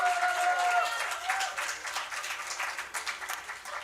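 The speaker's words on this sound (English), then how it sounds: "A big round of applause for Mr." An audience gives a big round of applause for coach JP Singh, a dense, steady wash of many hands clapping that tapers slightly toward the end.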